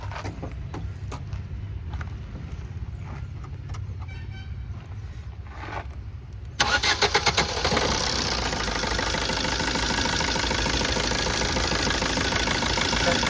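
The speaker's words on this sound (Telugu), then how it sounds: "ఒకసారి ఇంజన్ ఆన్ చేయండి చేసి ఆర్పిఎం ఇవ్వండి టూ థౌజండ్" A 2015 Maruti Swift Dzire Tour diesel with a newly replaced timing chain idles with a low clatter, then revs up sharply partway through and holds at a loud, steady raised engine speed until the end.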